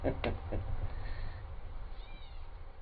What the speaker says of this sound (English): In case you're wondering if we have catbirds, there's your answer right there.